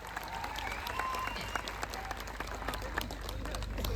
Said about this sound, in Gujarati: એમને તાળીઓથી આપણે વધાવી લેવાના છે